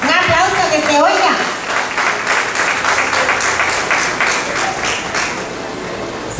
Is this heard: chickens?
no